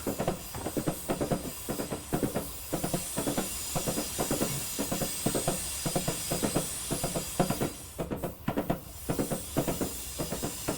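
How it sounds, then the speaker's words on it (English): A train on the West Highland line from Fort William to Mallaig in Train Simulator runs with steady rhythmic clickety-clack wheel beats over a hissing rumble, loud and alone throughout. "My train accelerates ridiculously, even though the gradient is in fact 0."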